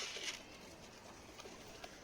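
A pigeon shifts about nearby, giving faint, soft movements and a possible low coo against a steady hiss of background noise, with no talking.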